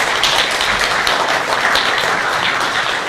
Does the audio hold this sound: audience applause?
yes